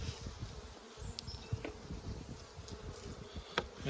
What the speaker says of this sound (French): On ouvre le cœur de la ruche.